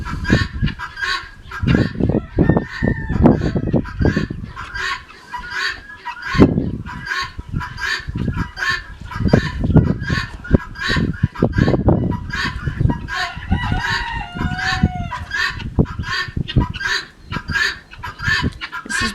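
Chickens, with goose-like honking among them, cluck and call repeatedly in a close, busy flock while a sick hen with water belly is held and drained by syringe.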